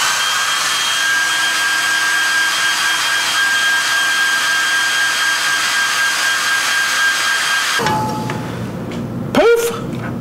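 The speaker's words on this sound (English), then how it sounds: "If you have a blow dryer, you can blow dry it. We're going to blow dry this duster." A blow dryer whirs loud and steady for about eight seconds while drying a feather duster, then shuts off, leaving a brief rustle and a short knock at the end.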